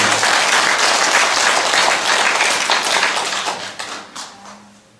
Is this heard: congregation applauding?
yes